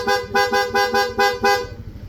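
Six quick, evenly spaced honks from a loud aftermarket PIA horn on a Honda Click V2 scooter, close by, with the engine idling beneath and then alone.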